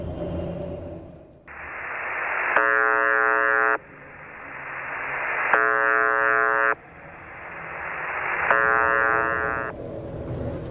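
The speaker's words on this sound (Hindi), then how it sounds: "ये एक रेडियो स्टेशन है जो कि एक कोड टून सेंड करता रहता है" The Buzzer, a shortwave Russian radio station broadcasting since 1982, sends a steady hissing drone broken every few seconds by a harsh, loud buzzing code tone that repeats three times.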